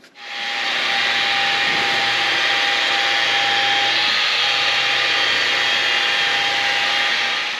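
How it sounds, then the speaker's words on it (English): A rotary polisher fitted with a wool pad and buffing compound, run at 1200 RPM on car paint, spins up and holds a steady loud whirring hiss with a faint whine, close and alone. "let's go ahead and get to polishing."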